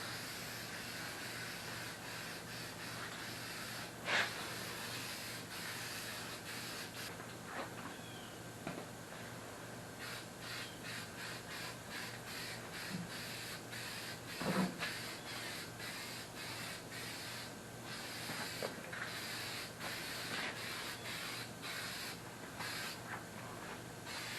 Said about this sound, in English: this is just to make sure that the primer is all sanded off to a uniform, even surface